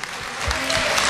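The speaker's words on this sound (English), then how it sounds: "let's give them a big round of applause" A crowd at a pageant applauds pageant finalists, a brief burst of dense, loud clapping filling the hall.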